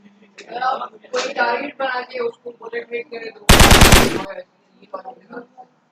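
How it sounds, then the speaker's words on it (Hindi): A machine gun sound effect for a Unity shooting game plays as a loud, dense automatic burst lasting under a second, between stretches of someone talking. "ये वैसे मशीन गन का साउंड है"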